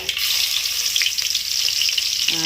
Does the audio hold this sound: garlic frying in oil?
yes